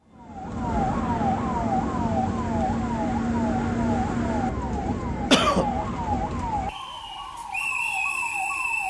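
A wailing ambulance siren sweeps up and down in fast repeating cycles over traffic rumble, a sharp knock midway, then the tone shifts.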